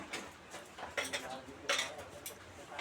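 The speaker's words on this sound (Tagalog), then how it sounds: "Lagyan ho natin ito ng ice." Ice cubes clatter into a glass for a vodka mix, a handful of bright clinks and rattles arriving in quick bursts, fairly close and fairly quiet.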